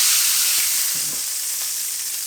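A freshly flipped steak sizzles loudly in a pan, a steady, close hiss with faint pops and no talking.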